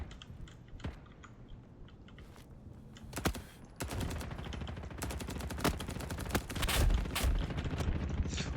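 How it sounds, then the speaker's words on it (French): Gunfire in a Roblox war game: rapid automatic bursts and single shots rattle through a busy, dense mix, with louder volleys in the middle and a faint keyboard clatter underneath. "il s'est pris une de ses rafales"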